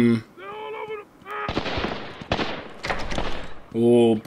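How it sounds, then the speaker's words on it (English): Gunfire in the Batman: Arkham Asylum video game: a cluster of sharp, loud shots and bursts rattles over a couple of seconds, with a voice talking just before and after. "Oh, gunfire."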